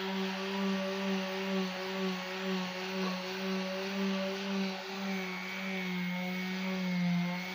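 A sanding machine finishing a wooden DJ speaker cabinet, a steady, loud motor whine with a strong buzzing drone and rough abrasive hiss, holding continuously with slight wavering in pitch, no voices.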